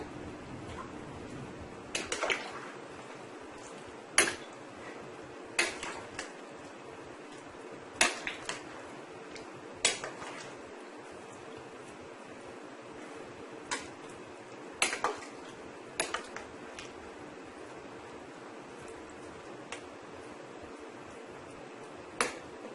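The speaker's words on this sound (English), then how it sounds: "I'm going to give this a nice toss." Corn in coconut milk being tossed in a pot on the stove, marked by a steady scatter of sharp clicks and clanks from a utensil against the pot over a quiet background hiss, close and fairly light.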